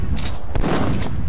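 Rapid gunfire from Duke Nukem 3D, a pump shotgun among the weapons, rattles on in dense, continuous bursts with a sharp crack partway through, loud and steady throughout.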